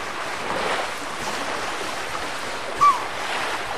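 Sea waves wash steadily in a children's number-learning game, a continuous soft surf hiss with gentle swells, broken by one short bright chime near the end.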